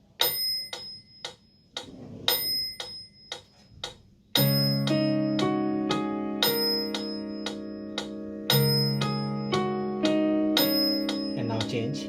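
Piano finger exercise played with the thumb and index finger, a short run of soft repeated notes followed by fuller sustained notes struck in a steady pattern, close and clear with a brief voice near the start.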